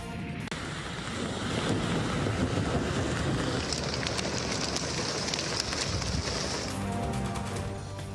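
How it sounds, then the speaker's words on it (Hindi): Dust storm winds sweep through the Larkana area: a constant, loud, broadband roar and rush of gusting air and debris lasting throughout, with no speech. "लाड़काना के गिरदोनवा में मिट्टी का तूफान।"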